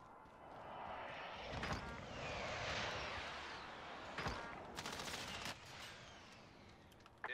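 Airstrike explosions in a Call of Duty match sound as a rumbling series of rolling blasts and sharp cracks, with a broad roar swelling and fading over several seconds, fairly faint in the overall mix.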